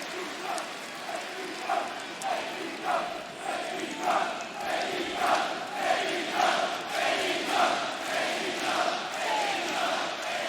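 A packed arena crowd at an AEW Dynamite wrestling match roars continuously, with rhythmic swells like chanting or clapping pulsing about once per second over a dense wash of voices.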